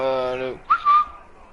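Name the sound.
whistle from a fern bush in the video game Shadow of Mordor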